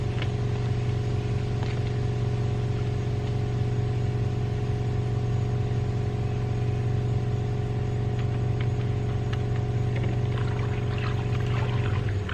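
Water pours steadily and continuously into a container to mix with Turtle Wax car wash soap outdoors, a constant rushing flow over a low background hum, with no talking.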